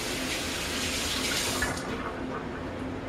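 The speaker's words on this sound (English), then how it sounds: "Let me wash my hands." Hands are washed under a running kitchen tap, a steady soft splash and hiss of water into a sink that holds fairly even throughout, heard alone at low level.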